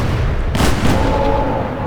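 Cannon fire in the Age of Empires 3 strategy game, with a sharp boom near the middle followed by a second burst, set over a steady game soundscape.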